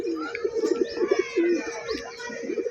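Male pigeons at a loft coo repeatedly in low, throaty bursts close by, one short call after another with brief gaps, a restless run of calls ahead of bathing.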